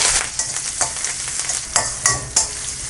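Mustard seeds and curry leaves crackle and sizzle in hot oil, with sharp pops and spatters scattered over a steady frying hiss.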